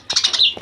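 A budgerigar parrot squawks while being caught by hand, a loud, close run of rapid harsh chirps with one more squawk at the end.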